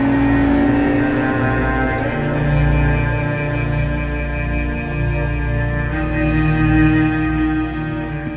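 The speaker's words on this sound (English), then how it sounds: "you're going to hear the exhaust note of that engine, the V12 engine on song." An Aston Martin DB9 V12 in sport mode gives a deep, steady exhaust note with a rich harmonic drone and a slight swell in revs, loud, close and continuous with no voices.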